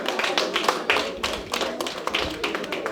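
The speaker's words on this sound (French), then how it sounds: "on l'applaudit" Audience applause at the Foire Diaspo Faso 2025 evening event, a moderate patter of many hands clapping with irregular louder bursts, steady for the whole stretch and heard without talk over it.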